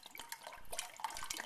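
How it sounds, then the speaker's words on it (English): Water runs into a cooking pot being filled to the brim for a soup, a faint, close splashing trickle with small drips and gurgles that continues steadily throughout. "So just fill it to the brim with water."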